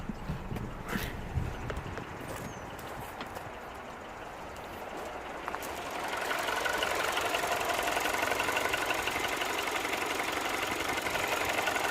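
Mini One 1.4 N12 engine idling after a repair for rough running and stalling, a steady close rhythmic ticking hum that grows louder and fuller partway through.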